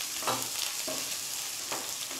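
Steady frying sizzle of onion, ginger and garlic in a pan with a few scraping stir strokes, close and fairly loud, no voices.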